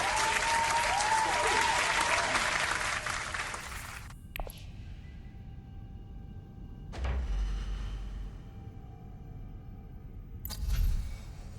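A short burst of crowd applause from the video game Dune Imperium Digital claps loudly for about four seconds and cuts off, followed by a few faint thuds and sliding interface clicks.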